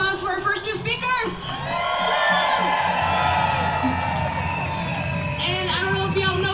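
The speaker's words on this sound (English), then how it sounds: "let's give a round of applause for our first two speakers" A protest crowd against Trump and Musk cheers, whoops and applauds for speakers, a sustained loud roar of many voices and clapping, with a person's voice audible briefly at the start and again near the end.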